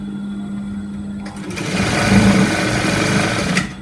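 Sewing machine stitching a sleeve onto an armhole, starting after a quiet hum and running in a steady, close, high-pitched whir for a couple of seconds before stopping abruptly.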